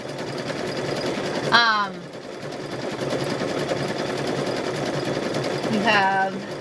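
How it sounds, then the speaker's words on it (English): A sewing machine runs continuously up close while stitching quilted handles for a Halloween tote bag, its steady drone loud throughout, with two brief chirping squeaks layered over it. "I'm going to go ahead and stitch this one."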